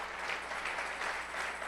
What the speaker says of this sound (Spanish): denle una ovación de palmas al Señor.